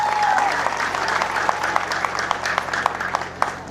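Audience applause at a university graduation ceremony, a dense patter of clapping with a few sharper individual claps standing out, moderately loud and close.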